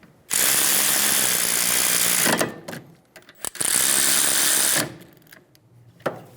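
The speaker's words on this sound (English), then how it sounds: "Install the caliper bolts. Snug the bolts down." Rear caliper bolts on a 2007-2011 Toyota Camry being driven tight, two loud close bursts of a rapid buzzing power ratchet, each about two seconds long, separated by short clanks and tool handling.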